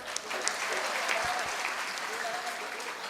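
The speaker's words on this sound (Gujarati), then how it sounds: "તમે બધા તમારા માટે તો તાળીઓ પાડો" Steady applause from a packed hall audience of men and women at a Jain diksha ceremony, continuous and moderately loud throughout, with a few voices faintly mixed in.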